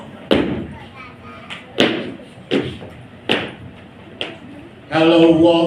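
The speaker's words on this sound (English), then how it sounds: "Then came another knock." Sharp knocks on a door as part of a one-man stage play, five separate solid thuds spaced roughly a second apart and struck close by, followed by a burst of noise at the end.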